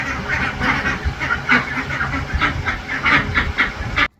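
Garden ducks quack in a steady run of repeated nasal calls, roughly two per second, close and fairly loud over a low outdoor rumble, cutting off sharply at the end.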